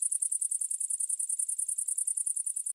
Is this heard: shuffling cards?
no